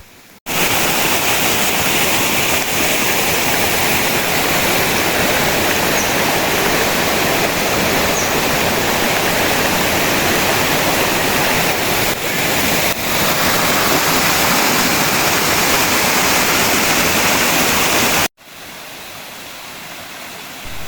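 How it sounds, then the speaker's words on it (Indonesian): A clear mountain river on a forest hiking trail in Indonesia rushes over rocks in a loud, steady broadband roar that runs unbroken for about eighteen seconds, then cuts abruptly to a quieter stretch. "Sungai ini cukup banyak airnya, cukup jernih dan cocok buat kalian mau main-main air"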